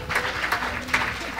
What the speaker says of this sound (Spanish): Dile un fuerte aplauso al Señor